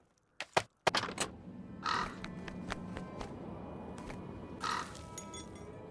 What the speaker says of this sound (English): Wonder what that crow's doing in there.